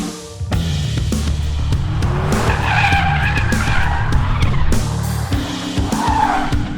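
A VW Golf R or Mercedes-AMG A45S in drift mode slides with a long, loud tire squeal and skid over a steady engine drone, the squeal rising and wavering as the car holds the drift.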